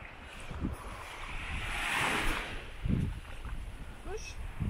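Beach waves wash and rush at Albufeira, with a broad surf hiss, wind buffeting the microphone and a few low thumps. No voices are heard.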